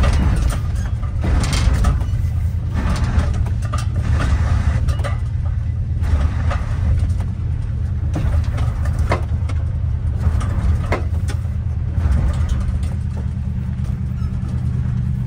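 A 1959 Chevy Biscayne towed with the clutch in along a gravel road, giving a steady rumbling drone with rattles and crunches throughout, loud and continuous.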